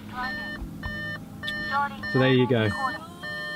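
Repeated electronic chimes from an Audi car beep in a steady rhythm, several short tones in a row, while someone speaks briefly over them.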